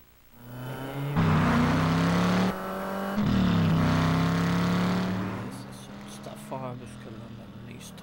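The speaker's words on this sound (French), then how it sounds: "la toute nouvelle Dodge Magnum et son moteur Hemi" A Dodge Magnum's Hemi engine roars and revs loudly in a TV advert, a powerful sustained drone that climbs and holds, then fades out.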